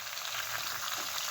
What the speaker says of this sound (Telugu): ఇప్పుడు బాగా వేయించేసుకుంటాను